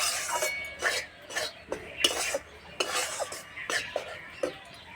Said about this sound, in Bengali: বেসন ভাজা হয়ে গেছে